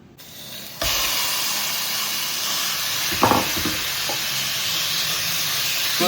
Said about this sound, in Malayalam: അപ്പൊ ഇനി നമുക്ക് നേരത്തെ മാരിനേറ്റ് ചെയ്ത് വെച്ച ചിക്കൻ ഇതിലേക്ക് ഇട്ട് കൊടുക്കാം.